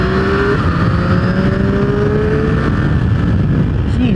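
A Triumph Daytona 765 Moto 2 race bike rides on the street, its engine a loud, steady, close droning whine that holds throughout with slight pitch shifts.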